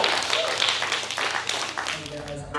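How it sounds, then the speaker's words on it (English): Church congregation clapping in praise, a dense wash of applause mixed with cheering voices that fades toward the end as a single voice begins speaking. "Somebody give God a hand clap of praise."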